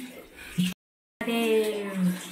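Water pours over a baby during a bath, a running splash mixed with a humming or singing voice. The sound cuts out briefly partway through.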